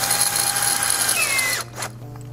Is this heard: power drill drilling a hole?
yes